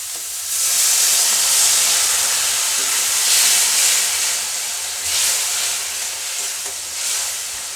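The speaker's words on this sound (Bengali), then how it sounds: "আমি মশলাটাকে খুব ভালো করে ভেজে নেব। একটু জল দিয়ে দেবো মশলাটায়।" Spice paste with red chilli powder fries in a pan after a splash of water, a loud broad steamy sizzle and hiss that swells and eases in waves, with no voices, while cooking a Bengali katla fish curry.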